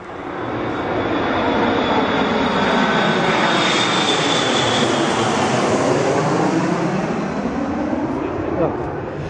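Airliner passing low overhead on landing approach, directly beneath the approach path just after the night flight ban ends, a loud, sustained roar of jet engines that swells and holds.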